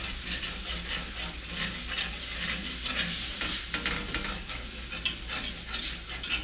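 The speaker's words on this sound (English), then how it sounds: "Now I'm going to whisk it as I put it in" A whisk works quickly through a sizzling sauce in a pan with chicken drippings, scraping the bottom in a steady close rhythm over a constant frying hiss, no talk.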